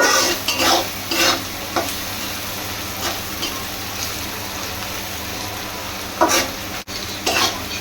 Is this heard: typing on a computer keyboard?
no